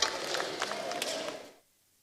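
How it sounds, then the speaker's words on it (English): A crowd applauds a government minister at a formal event, a brief burst of clapping with scattered sharp hand claps that carries on evenly and then cuts off abruptly into silence. "Please, ladies and gentlemen, a round of applause for him."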